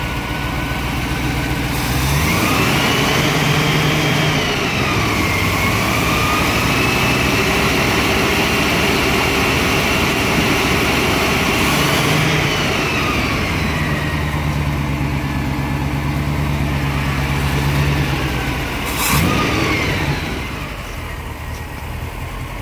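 A 1972 Range Rover engine with freshly adjusted twin carburettors runs steadily at idle, rising in a couple of brief revs before settling again, loud and close throughout.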